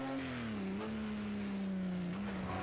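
A race car engine in a racing video game holds one steady, droning note with slight dips in pitch, close and constant throughout and without any voices.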